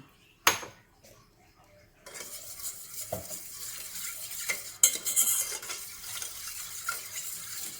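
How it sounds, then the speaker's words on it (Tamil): A spoon stirs a teaspoon of sugar into three-quarters of a cup of lightly warmed milk for butter cream buns. The swirling scrape is close and continuous, broken by a few sharp clinks against the bowl, with no talking. "ஒரு டீஸ்பூன் சுகர், ஒரு 3/4 கப் லைட் சூடான ஒரு பால் விட்டு இதை மிக்ஸ் பண்ணி கொடுக்கலாம்."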